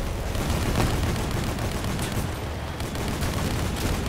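Sustained machine gun fire in a game, a dense unbroken stream of rapid shots that stays loud and steady throughout with hardly a pause.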